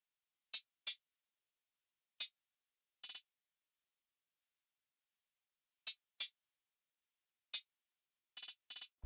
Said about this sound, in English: And then I added another hi-hat